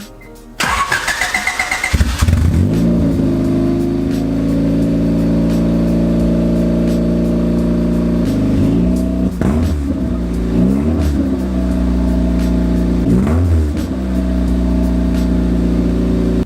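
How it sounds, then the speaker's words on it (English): A lifted Honda Civic wagon's engine with a straight stainless exhaust cranks and fires up, then idles loudly with a deep rumbling exhaust, punctuated by several sharp revs that rise and fall. "That may have messed up the straight exhaust sound."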